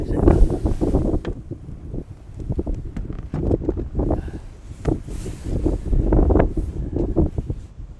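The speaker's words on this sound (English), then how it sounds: "that wind is brutal" Strong outdoor wind buffets the microphone in heavy, uneven gusts, loud low roaring rumbles surging and easing throughout with nothing else clearly heard.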